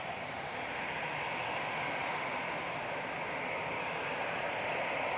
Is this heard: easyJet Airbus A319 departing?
yes